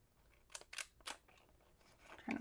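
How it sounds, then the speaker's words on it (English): Scissors cut paper for a handmade junk journal, giving several quick close snips in an uneven rhythm, with a faint rustle near the end. "Trying to line those scissors back up after each cut."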